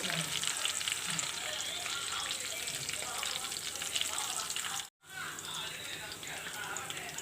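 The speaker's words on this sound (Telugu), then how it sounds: "పోపులోనే కాస్త ఇంగువ వేసుకోండి" Oil tempering with asafoetida, mustard-seed style seasoning for a drumstick-leaf dal, crackles and sizzles loudly and continuously, with a brief break partway and stirring underneath.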